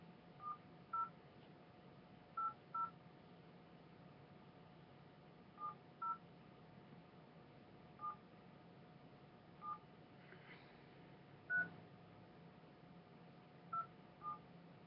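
A telephone is dialed to place a call, its touch-tone DTMF beeps sounding in short single and paired bursts spread evenly across the stretch, clear over a quiet background hum, with no talking.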